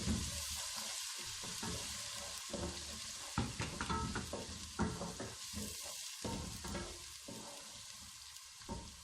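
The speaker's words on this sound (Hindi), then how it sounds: "अब अदरक लहसुन प्याज फ्राई हो चुके हैं।" Steady sizzling and crackling of ginger, garlic and onion frying in hot oil, with occasional stirring clatter, continuous and fairly close, no voices.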